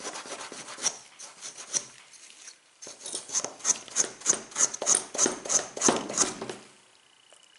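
Hand burnishing of a carved wood gnome, a run of quick scratchy rubbing strokes, close and fairly quiet, speeding into a rhythmic series of sharper rasps before tapering off.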